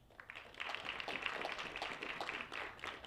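Audience applause at a youth and constitution dialogue event: a dense, fairly faint patter of many hands clapping, sustained evenly for a few seconds with no speech over it.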